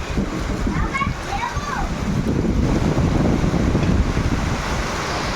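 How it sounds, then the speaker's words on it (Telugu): Steady outdoor rainfall hisses as a dense, even wash, loud and close, pattering on the clay and the unfired pots at a potter's yard. "వాన అయితే పడుతుంది"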